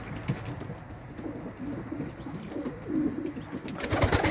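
Egyptian bango high-flying pigeons coo softly in low, rolling murmurs, nearby and fairly quiet, with faint rustling and a brief sharper noise at the end.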